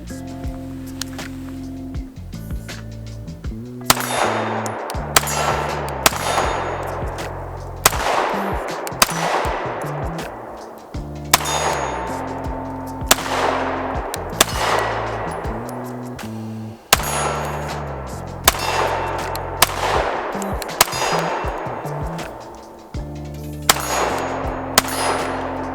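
A BUL Armory SAS II Ultralight compact pistol firing 115 grain Fiocchi rounds: sharp, loud single shots spaced one to two seconds apart, each with a brief ringing tail, over steady background music.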